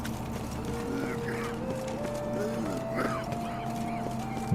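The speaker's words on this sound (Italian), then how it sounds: "Sono galline, maiali," Chickens clucking in The Witcher 3 Wild Hunt, faint, brief squawky calls scattered over steady in-game music and ambience, with no talking.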